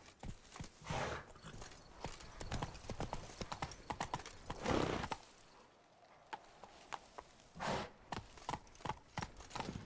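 A horse in the Witcher 3 video game moves at pace, its hooves clip-clopping in quick repeated beats, close and clear, with a brief whoosh in the middle and a short lull before the hoofbeats resume.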